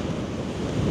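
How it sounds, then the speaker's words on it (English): High-tide waves surge up and over the shore, a dense, loud wash of water with heavy wind buffeting the microphone. "It's high tide, and the tide is definitely coming up."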